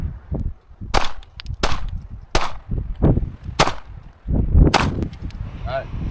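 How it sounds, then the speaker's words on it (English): A Shadow Systems CR920X pistol fired at a range, several loud sharp shots spaced about a second apart with a metallic ring, close by. "Alright, it's all 10 rounds."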